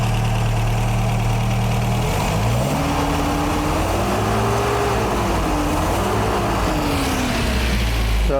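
MGA car engine revving up from idle, a loud close engine note that rises in pitch, wavers at high revs with a second surge, then drops back toward idle.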